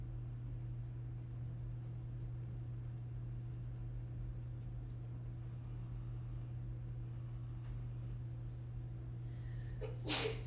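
One sharp sneeze bursts out near the end in a quiet chemistry lecture hall, standing alone over a low, steady room hum.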